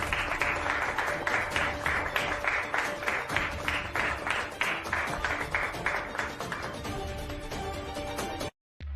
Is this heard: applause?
yes